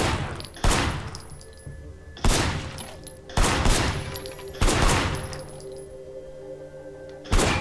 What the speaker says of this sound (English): Officer Shen, take up a firing position.